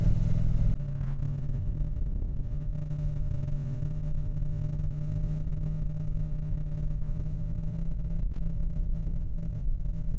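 A Triumph Street Twin motorcycle cruises a wide, winding mountain pass in Hokkaido, its engine a steady, loud, low rumble with a brief dip in revs near the start, mixed with continuous wind noise and no talking.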